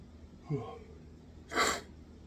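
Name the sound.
stifled sneeze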